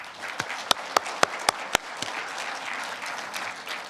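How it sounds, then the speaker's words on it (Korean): A seminar audience at a patriotic lecture forum opens the event with applause: several loud, distinct claps near the start over a bed of broader crowd clapping that continues evenly afterward. "다 함께 큰 박수로"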